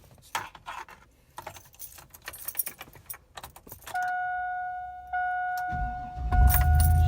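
Keys jangle in quick bursts, then a car door-open chime rings steadily as someone climbs into an old Chevy T-Roc with a 217 on the dash, followed by a louder thump and rustle near the end.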